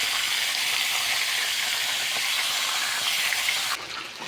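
Chicken gizzards sauté in a hot pan for adobo, giving a loud, steady sizzle and hiss that runs throughout and eases off slightly at the end, with no one talking.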